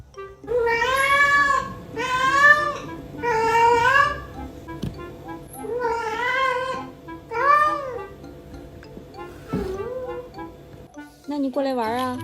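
A pet cat meows loudly and insistently up close, giving a run of about seven drawn-out, wavering cries with short pauses between them.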